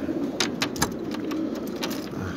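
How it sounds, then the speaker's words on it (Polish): Soft cooing of racing pigeons over a steady background hum, with a few brief clicks and flutters; no voices. "Gołębie już się niecierpliwią."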